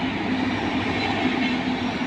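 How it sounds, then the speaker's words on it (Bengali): A train rolls steadily past with a continuous rumbling roar and faint rhythmic clatter of wheels on rails, no voices. "আকাশের মধ্যে ট্রেনটা যাচ্ছে, দেখো কত ভালো লাগছে দেখতে।"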